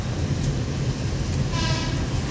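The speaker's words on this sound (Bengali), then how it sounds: "এ দেখো ট্রেন যাচ্ছে।" A train passing on a rail line between roads near the Farakka barrage, a loud continuous low rumble and rolling clatter, close by and alone.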